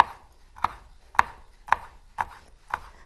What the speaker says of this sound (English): I'm just going to slice these.